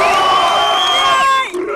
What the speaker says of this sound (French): c'est le premier round quand même, on applaudit quand même